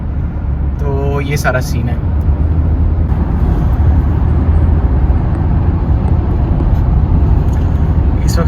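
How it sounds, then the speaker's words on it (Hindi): Steady road traffic rumble heard from inside a car while driving home in Jersey City, a constant loud low drone throughout, with someone talking over it briefly. "यार ट्रैफिक क्यों नहीं चल रहा"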